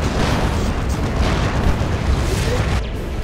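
Heavy cannon blasts from Demolisher cannons and other artillery in the strategy game Dawn of War 2: Retribution, a dense, continuous rumble of overlapping booms held at steady loudness throughout.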